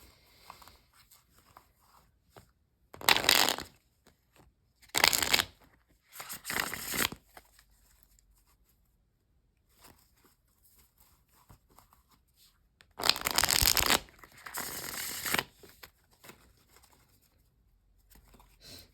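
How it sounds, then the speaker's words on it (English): Tarot cards are shuffled in several quick riffling bursts, each a crisp flutter lasting a second or two, separated by quiet pauses, close and clear. "You can look at the stuff too while I shuffle"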